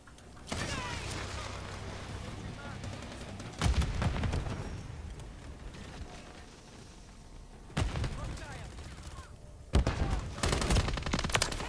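Bursts of gunfire in Call of Duty Modern Warfare 3 online play, loud cracks and rattling volleys recurring every few seconds over a steady battle backdrop, with players chattering throughout.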